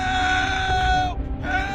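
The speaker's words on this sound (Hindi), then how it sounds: "तभी उस हॉस्पिटल के अंदर से चीखने चिल्लाने की आवाज आने लगती है।" A cartoon horror scene of screams and wails rising from inside an old hospital: a loud, sustained tonal cry with a short break and then a renewed scream, with no speech over it.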